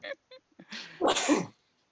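A single loud, close sneeze: a few short sharp intakes of breath build up, then a forceful burst ending in a brief vocal trail, with nobody talking over it.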